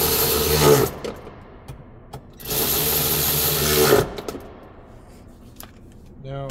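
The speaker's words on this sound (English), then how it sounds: "I have a power ratchet" A power ratchet driving center console screws on a 2019-or-later Hyundai Elantra, two loud whirring bursts of about a second each separated by quiet clicks and handling, with someone talking in between.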